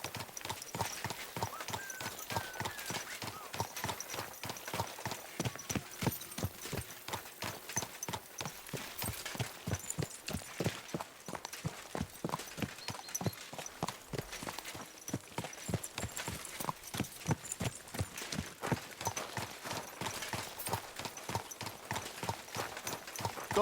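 Horse hooves clip-clop at a steady walking pace in the medieval video game Kingdom Come Deliverance 2, an even unbroken rhythm of soft, close hoof falls continuing throughout at a low level, with no voices.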